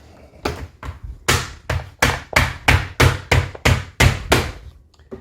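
A hammer cracking Alaskan king crab legs and claws, about a dozen sharp, loud blows struck in an uneven rhythm, each a hard thunk with a brief ring, with no talk between them.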